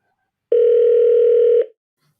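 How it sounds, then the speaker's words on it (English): A single telephone ring sound effect, a steady electronic tone lasting about a second, clear and close with nothing else around it. "I might add a phone ringing sound in there, sure."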